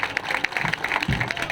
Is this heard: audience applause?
yes